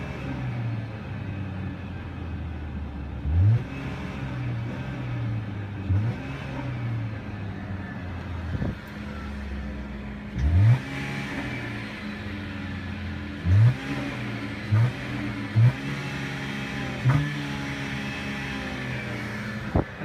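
A 2015 Chrysler 200 mid-size sedan idles with a low hum while its engine is blipped several times in short, separate revs that rise and fall quickly, capped by a rev limiter near 4,000 RPM.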